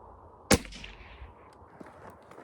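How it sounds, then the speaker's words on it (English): A single sharp .22 LR CCI Mini Mag rifle shot fired into a ballistic block, one loud crack followed by a brief decaying echo and then quiet ambient noise. "So we're gonna shoot one more of the CCI mini mag."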